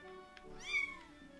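A cat meows once inside the video game Jazzpunk, a single rising-and-falling cry heard clearly over a faint steady background hum.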